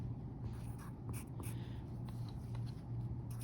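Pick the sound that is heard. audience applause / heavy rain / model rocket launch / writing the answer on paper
writing the answer on paper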